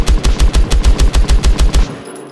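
A rifle in a VR gun video game firing a rapid burst of about eleven loud, evenly spaced shots that stop abruptly, followed by a short fading tail.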